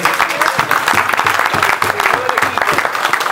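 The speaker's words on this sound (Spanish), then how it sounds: "Quisiera que le brindáramos un aplauso también." Applause from the audience at a municipal gathering in Sahuayo, with close, fairly loud individual claps that are clearly separable and some crowd noise underneath, lasting a few seconds.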